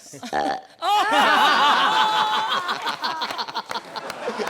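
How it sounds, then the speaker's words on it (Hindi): A performer burps on demand on a comedy stage show, giving a short throaty belch that is immediately swallowed by loud, sustained audience laughter and chuckling. "Burping on demand."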